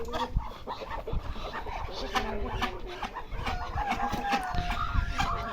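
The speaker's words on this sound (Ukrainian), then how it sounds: "Качині бої, що це таке?" Ducks cluck and squabble noisily nearby, a busy jumble of calls with a person talking over the commotion.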